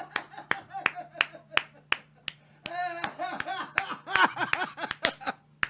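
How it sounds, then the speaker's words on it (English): A slow clap during a talk-show podcast: single sharp claps spaced about half a second apart, gradually quickening, close and fairly loud, with a voice talking over them. "That's a slow clap right there"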